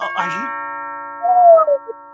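A doorbell rings out a clear electronic ding-dong, one bright tone after a brief rustle, near and loud in a quiet room.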